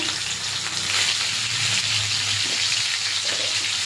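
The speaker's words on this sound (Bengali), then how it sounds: "কড়াইতে তেল দেবো, আলুটা একটু ভেজে নেব" Potatoes with salt and turmeric fry in hot oil in a wok, giving a loud, steady, continuous sizzle close up with no voices.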